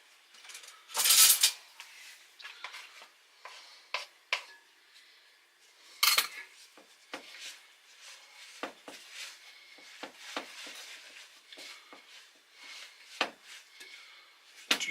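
No-knead peasant bread dough being mixed in a bowl, with scattered scrapes and clinks of a utensil against the bowl, a couple of louder knocks among quieter irregular stirring sounds, close by.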